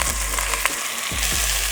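Beef for rendang sears in hot oil, giving a steady close sizzle broken by a few light clinks and stirring noises.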